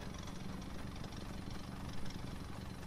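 A steady, rumbling, engine-like drone from the Mythic Recycler machine in a video game, chugging like an idling tractor, close and continuous with no talk.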